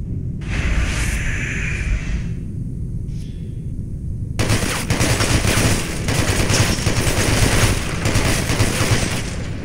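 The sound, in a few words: gunfire at a shooting range in the video game Hatred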